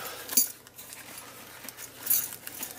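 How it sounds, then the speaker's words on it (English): A packet of assorted metal keys in different shapes and sizes is handled close up, giving light jingling clinks with two brighter metallic chinks over a soft rustle. "is a fantastic collection of metal keys, all different shapes and sizes"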